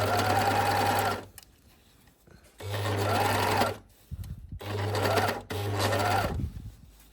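Overlocker (serger) stitching a blind hem in steady bursts, its motor humming loudly for about a second at a time with short quiet pauses between runs; no talking.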